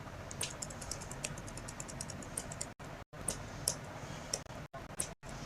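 Computer keyboard typing with sharp, close key clicks arriving in quick irregular runs, ending with firmer strikes like the Enter key, quiet and dry with brief total silences between bursts.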